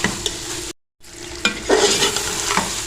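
Kachnar buds being stir-fried with masala in a pan, with steady sizzling and scraping of a spoon, briefly cut by a moment of silence, then continuing loud and close.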